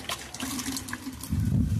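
Fresh coriander leaves are rinsed clean in water, giving a brief, soft, close splashing and trickling that swells into a fuller slosh near the end.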